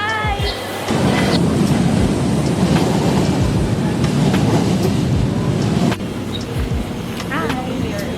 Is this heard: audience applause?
no